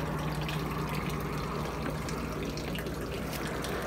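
Rainwater mixed with fish water bubbles and churns in a container for worm casting tea, a steady watery gurgle and trickle heard up close at low volume, with no voices.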